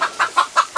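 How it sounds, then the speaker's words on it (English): A chicken on a pig farm clucks five times in quick, even succession, close and loud with no talking. "Fucking chicken."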